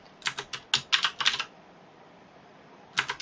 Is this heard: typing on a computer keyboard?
yes